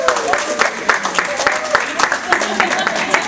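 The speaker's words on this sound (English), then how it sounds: "I think that deserves a round of applause." A loud audience applauds at a presentation about couponing for the Lady Raiders girls' rugby team of Kalihi, Oʻahu, with sharp, evenly spaced claps in a steady rhythm and voices or a tonal sound running underneath.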